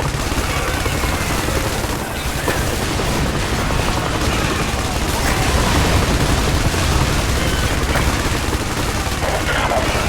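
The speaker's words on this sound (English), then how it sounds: "Hostile fire on the right." Gunfire in IS Defense, a military shooter set in a harbor level, dense continuous bursts of shots and booms layered into a loud, unbroken battle din, with radio-style voices calling out over it.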